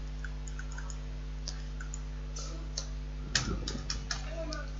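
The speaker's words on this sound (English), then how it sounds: "I'm just trying to type something so that we can describe our work." Computer keyboard typing comes as scattered light clicks and a brief burst of rapid keystrokes, fairly close, over a steady low electrical hum.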